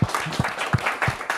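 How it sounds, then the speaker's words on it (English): Brief applause from a small audience at the close of a blockchain tech talk, a short burst of clapping with a few distinct, evenly spaced claps standing out. "Round of applause for"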